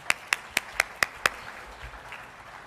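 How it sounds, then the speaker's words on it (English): Six distinct, evenly spaced claps ring out at a government briefing event, a single close pair of hands rather than a full crowd, then the room falls quiet. "I think that will deserve one more round of applause"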